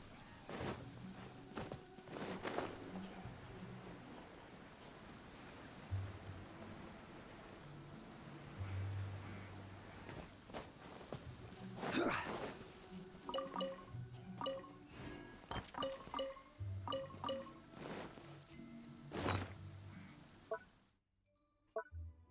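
Rain in a video game falls as a steady, moderately quiet hiss and patter, with footstep-like taps and other game sounds scattered over it before it cuts to near silence at the end.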